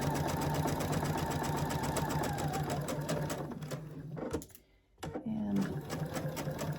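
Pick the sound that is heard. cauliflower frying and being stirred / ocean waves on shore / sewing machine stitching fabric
sewing machine stitching fabric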